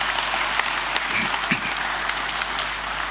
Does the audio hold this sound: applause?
yes